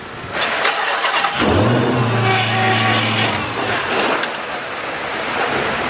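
A car engine cranks and catches, running briefly at a steady idle with a rising whine, during a quick start-and-stop after its oil is drained and refilled; loud and close, with no talk.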